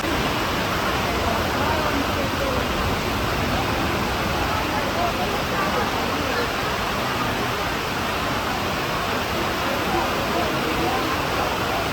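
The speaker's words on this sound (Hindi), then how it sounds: "बहुत तेज अभी बारिश हो रही है, और लोग बहुत परेशान हो रहे हैं यहाँ पे।" Heavy rain falls in a dense, steady, loud wash of noise throughout, unbroken and without distinct drops or pauses.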